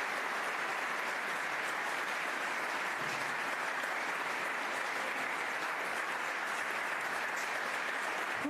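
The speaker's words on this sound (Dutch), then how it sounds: "ja, applaus." An audience at a talk on European homelessness policy bursts into sustained applause, a thick, even roar of clapping that stays loud and constant for the whole stretch with no voices over it.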